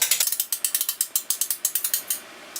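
A bow's draw mechanism cranked toward full draw during a drop-away arrow rest installation, giving a quick, even series of loud, close ratchet clicks with a short pause midway.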